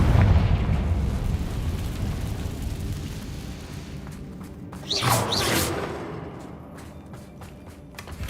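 Confringo blasting spell in the Hogwarts Legacy video game, a rumbling boom with crackling debris that swells near the middle and fades into a scattered tail of pops, loud and close.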